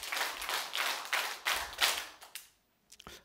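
Audience in a lecture hall clapping in unison on cue, about seven loud, evenly spaced claps that then stop into near silence, with a few stray late claps after.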